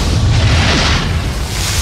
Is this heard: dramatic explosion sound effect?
yes